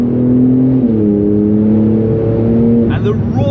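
A Porsche engine drones and revs with steady harmonic tones that shift in pitch, loud and close, with a voice talking over it.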